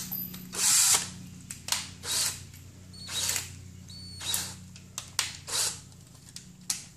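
A cordless drill bores a hole while building a sparrow deterrent, whirring in a series of short, separate bursts with brief pauses between them over a low background hum.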